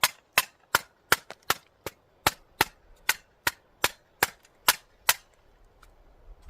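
A Vector Optics Frenzy 1x18x20 enclosed red dot sight is banged against a piece of wood, giving about fifteen sharp, loud knocks in a steady, slightly uneven rhythm, close up with no talking.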